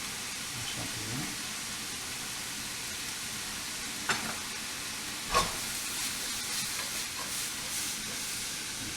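Onions and mushrooms fry in a pan for a tarte provençale, a steady close sizzle with a few soft knocks and scrapes as they are gently stirred.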